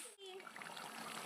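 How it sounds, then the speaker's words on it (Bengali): Water pours into curry gravy in a pan, a steady close hiss and splash that runs without a break after a brief clatter at the start, with a voice audible under it. "এখন আমি জল দেওয়া হবে ঝোলে।"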